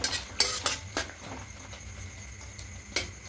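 A utensil stirs and mixes chilli soybean in a pan, giving a few sharp metallic clinks and scrapes spread irregularly over a quiet background, faint and close.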